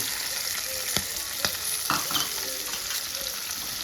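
Onions frying in a pan while making Maggi noodles, a steady broadband sizzle with occasional stirring clicks and scrapes, close and fairly loud, no talk.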